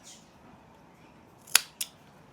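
Scissors snip through leftover yarn after a knot is tightened on a crocheted colour-patch mandala, two quick close cuts about a quarter second apart over a quiet room.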